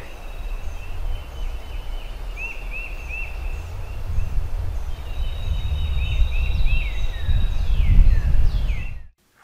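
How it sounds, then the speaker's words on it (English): Wild turkey roosting on a tree limb gobbles several times at a distance, the short bursts carried over steady wind and outdoor rumble. "So we got a little footage of this turkey sitting on a limb."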